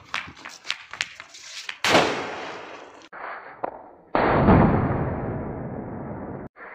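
Several sharp Diwali bullet bomb firecracker blasts go off, the biggest ones exploding loudly and leaving long rumbling, hissing tails that cut off abruptly.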